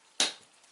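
A single quick percussion strike trimming a Georgetown flint biface, one sharp close crack with a brief decaying ring, alone against near silence.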